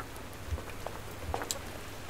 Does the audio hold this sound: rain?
yes